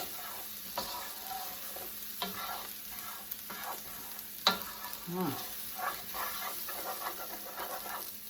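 A vegan dish with hot brown rice being mixed in a pan: repeated scraping stir strokes over a low, steady sizzle, close and moderately quiet, with no talk.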